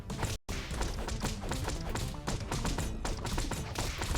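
A corn boss's Jaws attack in the video game Industrial Castle, heard as dense repeated thumps and crashing impacts over game music after a brief cut to silence.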